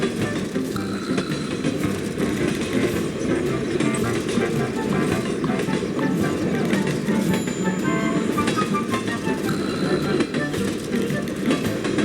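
A railway engine hauls freight wagons over rough track, making a loud, steady rumble with rhythmic clanking throughout.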